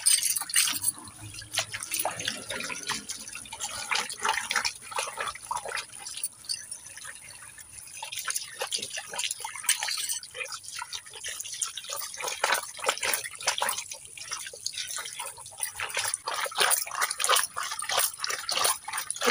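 Fresh fish being washed by hand in water: repeated close splashes, drips and sloshing in an irregular rhythm, moderately quiet, with no talking.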